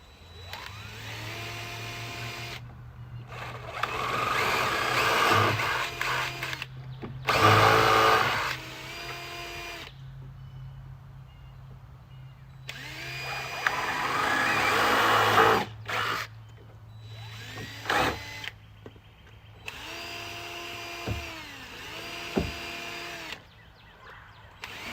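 A power drill drives screws into a Trex composite fascia board on an outdoor deck build, loud close whirring bursts of a few seconds each, stopping and starting repeatedly with short silent gaps between runs.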